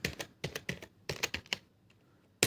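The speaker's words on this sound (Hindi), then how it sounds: "इलेक्ट्रॉनिक्स टाइप करेंगे" Close keystrokes clatter on a computer keyboard while entering data in Tally Prime accounting software, coming in quick bursts of clustered taps with short pauses and one final sharp press.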